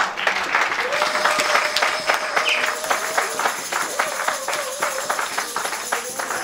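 Congregation applauding and cheering for Jesus in a church service, a sustained dense wash of clapping with rhythmic hand claps throughout and some voices mixed in.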